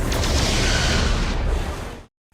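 Starship weapons fire in the Star Trek Resurgence video game: a loud, dense, roaring blast that holds steady for about two seconds, then cuts off abruptly to silence, with no talk.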